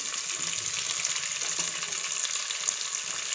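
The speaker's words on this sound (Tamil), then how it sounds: "ஒரு கேரட்டு இதோட போட்டு வதக்கிடுங்க" Onion and carrot sauté in a pan for mint rice, a dense, steady hissing sizzle heard close and fairly loud throughout, with faint stirring underneath and no talking.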